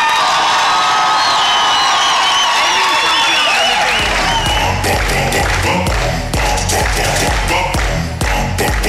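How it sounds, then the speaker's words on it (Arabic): Television studio audience applauding and cheering during a game show, a loud burst of clapping and whoops that swells midway, with a rhythmic beat joining in. "اعطيونا 3 سكوند تصفيق على يوسف."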